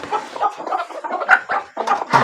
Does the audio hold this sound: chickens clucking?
yes